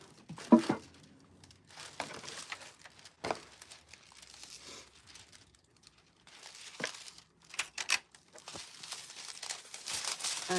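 Scissors cut through a piece of pleather in a crafting setup, giving intermittent crinkling snips and rustles, close and fairly quiet, with pauses between cuts.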